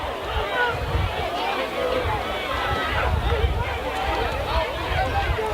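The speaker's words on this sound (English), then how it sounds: "You can hear the frustration in the crowd below us as well." Crowd murmur from the stands at a youth tackle football championship game, a steady low hubbub of many voices rising and falling throughout, heard from above at a distance.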